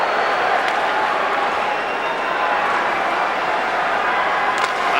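Hockey crowd at a Boston Bruins vs Toronto Maple Leafs game in 1989, a dense, steady roar of many voices filling the arena, loud and unbroken throughout, with faint sharper bursts near the end.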